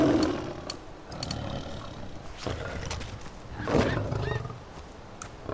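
A tiger growls in Far Cry 4, low rumbling snarls rising to a louder roar midway, mixed with game ambience and occasional clicks, no talk over it.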